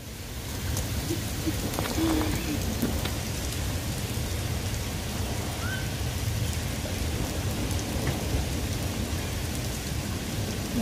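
Heavy rain pours steadily in Calgary, a dense continuous hiss of drops on surfaces with low thunder rumbling underneath and faint distant voices.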